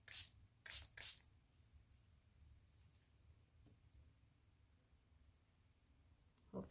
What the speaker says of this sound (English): spraying that one more time.